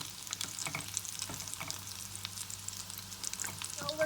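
Cheese-stuffed crepe triangles fry in hot oil, giving a soft, steady sizzle with scattered crackling pops close by.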